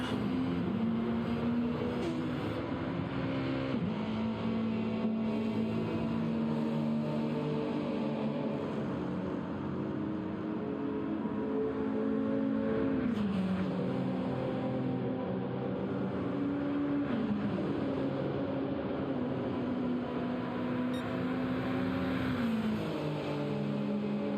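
Gran Turismo 7 GR3 race cars lap Tokyo South, their engines droning continuously at a steady pitch that rises and falls with gear changes and throttle, a constant mid-loud whine with no voices over it.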